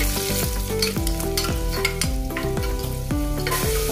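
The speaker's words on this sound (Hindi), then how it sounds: "हींग डालने के बाद इसमें हम लहसुन की कलियां डालेंगे।" Finely chopped garlic cloves fry in hot oil with cumin and asafoetida, giving a steady sizzle with stirring. Loud rhythmic background music plays over it.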